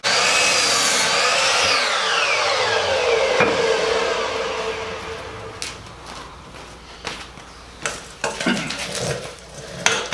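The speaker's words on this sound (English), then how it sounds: "So I cut myself 4 pieces of 2x4." A power saw cutting 2x4 lumber for raised garden planter beds: a loud motor whine that falls in pitch as the blade winds down, then scattered wooden knocks and thuds from handling the pieces.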